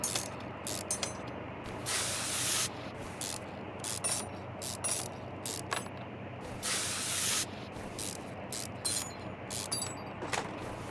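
Rusty bolts coming off an engine intake in Car Mechanic Simulator 2021, heard as repeated rapid ratchet clicking in bursts, each with a bright hissing rasp, separated by short pauses over a steady low background.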